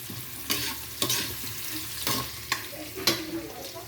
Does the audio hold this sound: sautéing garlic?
yes